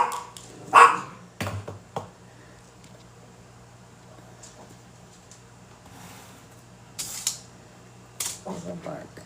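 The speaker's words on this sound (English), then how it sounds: "Little bark." Small Yorkshire terriers give a few short, sharp barks indoors, brief bursts separated by quiet stretches with faint background hum.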